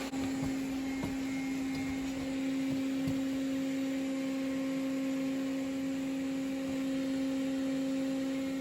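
A Roborock S5 robot vacuum runs over carpet and hardwood at home, a quiet, steady tonal motor hum with faint whirring, constant throughout.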